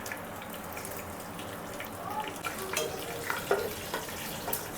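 Whole spices—bay leaf, biryani spice mix, cinnamon and cloves—sizzle in ghee for a mutton biryani, a steady soft frying hiss with a few crackles and pops rising near the end, close by with no talk.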